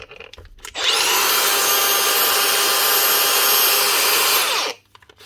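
A repaired Makita DGA463 cordless angle grinder spins up sharply, runs at a steady high-pitched whine for about four seconds close by, then winds down, with brief handling clicks before and after.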